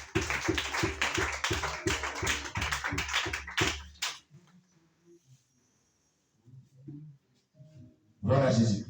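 Steady rhythmic clapping from a church congregation during a French-language worship service, loud and even for about four seconds, then a quiet pause with faint voices and a burst of acclaim near the end.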